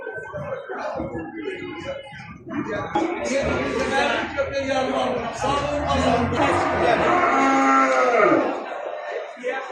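Cattle mooing at a livestock market, several long low moos close by over crowd chatter and voices in the background.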